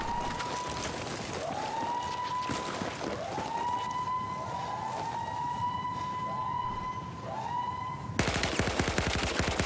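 Automatic gunfire in the video game Battlefield 4 during a competitive match, rising siren-like tones repeating over a dense, steady battle din, then a sharp louder burst near the end.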